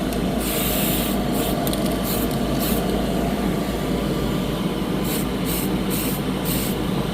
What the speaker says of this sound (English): I have completely forgot how well spray cans will work with good coverage.